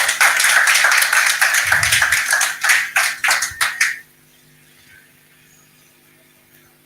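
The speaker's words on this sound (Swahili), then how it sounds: "Pigieni daddy makofi." A congregation at a church service in Kenya applauds a pastor with a dense burst of clapping that thins into scattered individual claps before fading to near silence.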